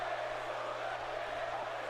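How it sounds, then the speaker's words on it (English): A large crowd in the WWE 2K18 wrestling video game roars and cheers in a dense, continuous wash of noise, steady throughout with no pauses. "sounds like the crowd is all behind Bray Wyatt right now"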